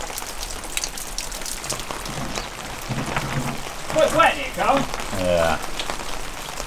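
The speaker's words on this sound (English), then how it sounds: "I haven't got to stand in the rain now." Rain falls steadily outside a garage, a continuous wet hiss through the whole stretch, with voices and a few brief exclamations heard over it.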